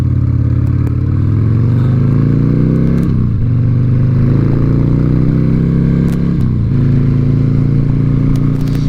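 Harley-Davidson Sportster engine running loud and steady, revving up in pitch and dropping back twice, with a throaty rumble throughout and no voices.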